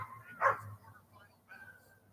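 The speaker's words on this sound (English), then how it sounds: "Dogs sound like they're fighting up here," Dogs bark and yelp in a scuffle: one loud sharp bark, then a thinner whining yelp, close by over a faint low hum.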